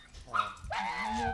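A small Yorkie Pomeranian dog whimpers and whines in two close, rising cries, the second drawn out and nasal, heard near and alone.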